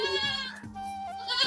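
Sirohi goat on a breeding farm bleating in a wavering, drawn-out call that runs through most of the moment, close and fairly loud, with a second shorter bleat rising at the end.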